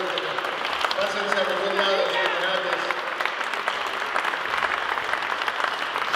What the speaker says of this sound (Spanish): Vamos a darles un aplauso muy fuerte a todos.